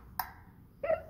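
Two small clicks of a light switch in an abandoned manor, a sharp tick followed moments later by a slightly brighter one, faint against quiet room hiss.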